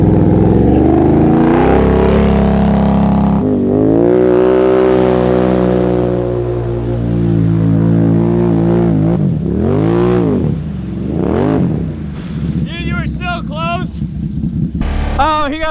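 A Can-Am Outlander 1000 ATV engine revs hard in mud, climbing and dropping in repeated loud surges up close, with wind buffeting the microphone and spinning wheels.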